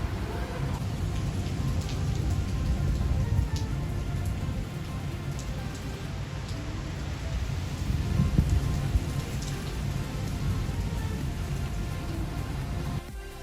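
Steady, dense rain falls continuously in Kashmir, a broad hiss with scattered drops, fairly close and unbroken throughout with no voices.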